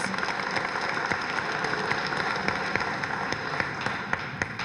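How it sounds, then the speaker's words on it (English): Audience applause fills a correctional officer class commencement ceremony, steady dense clapping from a seated crowd throughout, with no speech over it. "Let's give a round of applause again to our sergeants and our lieutenants."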